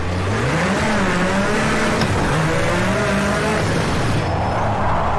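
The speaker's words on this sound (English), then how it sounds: "I do like the sounds of the rally cars in this game." A rally car engine in the iRacing sim racing game at Summit Point revs loudly and continuously, pitch rising and falling through gear changes, with tire noise beneath; no talking.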